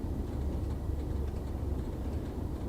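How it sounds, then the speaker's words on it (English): A train rolls over track joints in Train Sim World 3 on the Tees Valley Line, heard as a steady low rumble with faint rhythmic clicks running underneath. "It sounds like this has the same track joint sounds as the 101."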